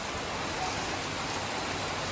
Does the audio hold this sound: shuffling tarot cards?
no